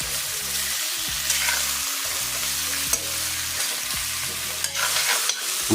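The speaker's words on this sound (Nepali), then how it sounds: "हालेको तरुल, आलु पिँडालुलाई अब मजाले चलाउँ ताकि सबै पाकेको मसला त्यसमा घुलियोस्।" A spoon stirs yam, potato and taro curry in a pan in a steady scraping rhythm, with a soft sizzle of frying running underneath and occasional clinks against the metal.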